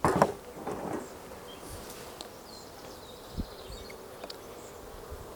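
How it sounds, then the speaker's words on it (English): Bees buzzing around a full beehive outdoors on a breezy warm day, a faint steady insect drone after a brief louder rustle at the start, with occasional soft ticks. "This beehive's full."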